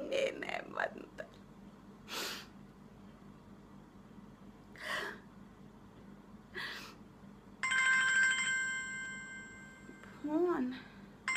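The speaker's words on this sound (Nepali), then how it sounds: "फोन" A telephone rings with a bright, steady electronic trill lasting a couple of seconds near the end, following quiet stretches of whispery voices and breaths; speech resumes just after.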